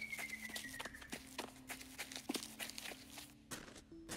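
Footsteps in the fantasy video game Sorceress, a steady run of soft, regular steps with a few brief tonal game effects and a faint musical drone underneath, no talking.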